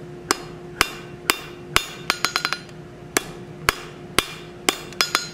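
Hammer blows ring out on hot metal at the far side of a blacksmith's anvil while drawing between centers, sharp and close, in an irregular rhythm of single strikes with a quick flurry of lighter taps midway.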